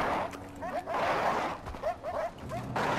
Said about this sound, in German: Hunde! Tollwütige Hunde!